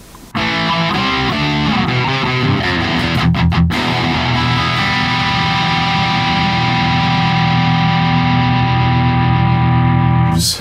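A PRS Silver Sky electric guitar played through distortion on the bridge pickup with its tone control turned down, loud and thick: a quick run of notes, then a big chord ringing out and sustaining.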